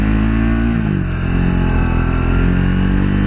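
A Triumph Speed 400 motorcycle rolls at low speed, around 20 mph in second gear, its engine droning steadily and loudly up close with a slight dip in pitch partway through.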